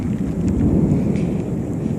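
Steady rain pours down in Yosemite near Half Dome in a dense, continuous wash of noise, with a low rumble underneath throughout and no voices.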